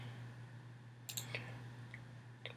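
A couple of faint computer mouse clicks, close and sharp, over a steady low electrical hum in a quiet room.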